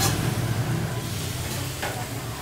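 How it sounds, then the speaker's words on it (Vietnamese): Bánh khọt shrimp pancakes frying in oil over an oil-fueled stove in a Saigon alley stall give a soft, steady sizzle with a low background hum and a faint clink. "chiên bánh đây này"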